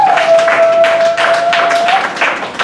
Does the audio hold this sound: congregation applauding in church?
yes